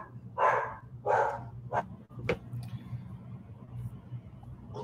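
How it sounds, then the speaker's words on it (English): A dog barks several times nearby in a room, a few sharp yips standing out over a steady low hum, with no talking during the barks. "There goes my dog."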